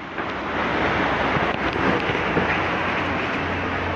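Floodwater of the Masamba River rushing in Luwu Utara, a loud, steady broadband roar with no breaks, like heavy surf or strong wind, filling the whole stretch with no voices.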